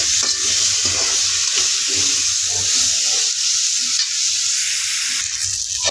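Tomatoes sautéing in a pan for a village-style crab gravy give a close, steady sizzle with faint stirring scrapes throughout, and no one speaks.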